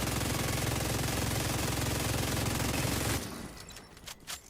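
Heavy gunner enemies in The Division 2 unleash a dense, roaring stream of automatic gunfire for about three seconds, then it cuts off and a few scattered shots ring out over quieter game ambience.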